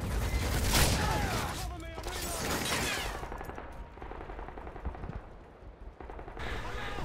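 A SPAS shotgun fires in Call of Duty MW2 with heavy blasts and clatter up front, then fainter scattered shots and game noise trailing off.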